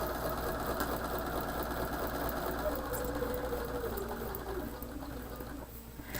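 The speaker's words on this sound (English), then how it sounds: "you're going to watch me hopefully sew on the lines" A foot-pedal sewing machine stitches Hunter's Star quilt pieces along paper-pieced lines, a continuous close whirring hum throughout with faint mechanical knocking underneath.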